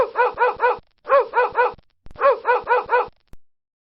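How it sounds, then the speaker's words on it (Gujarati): A dog gives three quick bursts of barking, each a run of four or five sharp barks with short pauses between, loud and close with no other sounds. "કૂતરું ભસે છે."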